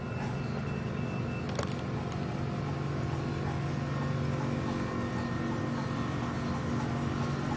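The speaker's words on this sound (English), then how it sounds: "that's why you hear the air compressor running" A locomotive air compressor runs steadily after the main reservoir has been drained for reconnecting the cars, a faint, constant mechanical drone with a brief sharp click near the start.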